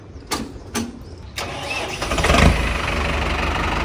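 A few sharp cranking bursts, then a heavy Mahindra Arjun Novo DI tractor engine catches and settles into a loud, steady idle close by.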